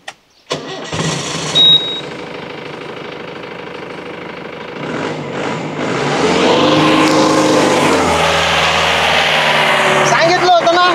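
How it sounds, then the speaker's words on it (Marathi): A vehicle engine cranks and catches, then revs up into a loud, steady running drone that continues to the end, with a beep and a thud near the start. "मी गाडी चालू करीन."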